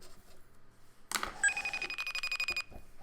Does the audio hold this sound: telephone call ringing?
yes